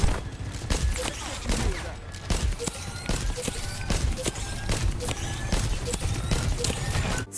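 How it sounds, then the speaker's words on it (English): Ana's rifle in Overwatch 2 fires in a steady series of sharp, weighty shots, about a dozen evenly spaced reports over a low rumbling game background, with no voices. "if you listen closely to the gunshots, you can hear how her gun has more weight"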